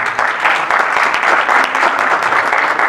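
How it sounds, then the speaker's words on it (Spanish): Applause from an audience at a Chilean health-system conference, greeting an economist specialising in health economics; dense steady clapping, fairly loud and even throughout with no talk over it. "Un aplauso, por favor."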